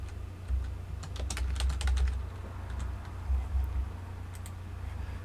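Someone types a cluster name on a computer keyboard: quick bursts of light key clicks in two short runs, fairly quiet over a low steady background hum.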